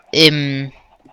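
A chicken in a video game gives one short, loud, close cluck-like call with a rising then flat tone. Faint noise trails off after it.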